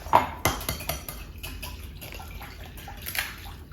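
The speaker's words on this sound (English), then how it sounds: "now crack the eggs and get the whisk" A whisk beats eggs in a bowl with oil and milk for cake pop batter, giving a quick run of clinking, scraping strokes against the bowl that start sharp and settle into a softer, steady rhythm.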